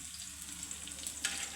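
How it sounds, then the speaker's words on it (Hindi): Eggplant kebabs shallow frying in oil in a pan, a steady close sizzle and crackle with a brief louder spit near the end, no voices. "इसे आपने इसको शैलो फ्राई करना है, डीप फ्राई नहीं करना।"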